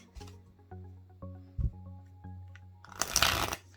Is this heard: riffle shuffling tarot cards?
yes